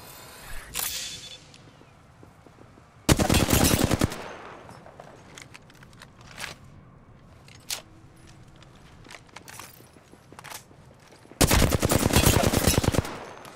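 Gunfire in the Apex Legends video game while under attack: two long, loud bursts of rapid automatic fire, separated by scattered single shots and clicks over quieter game ambience.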